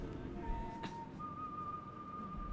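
Steady whistled tone in Far Cry 5, a single held note that rises in pitch partway through and continues over low background game ambience, moderately faint.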